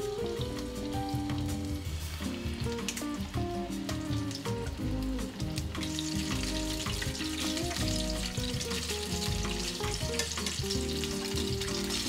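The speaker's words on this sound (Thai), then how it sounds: "การทอดครั้งแรกด้วยอุณหภูมิ160องศาคือทำให้ข้างในมันสุกก่อนค่ะแล้วก็ครั้งที่2อุณหภูมิจะสูงกว่าเพื่อที่จะทำให้ข้างนอกมันกรอบ" Flour-coated chicken karaage, skin side down, fries in hot oil at about 160 degrees, a loud, dense, continuous bubbling crackle under background music.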